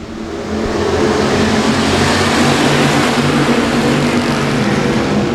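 Race cars accelerating at the start of a heat at the Cajun Classic, a loud dense roar of several engines building quickly and holding steady, with no voices.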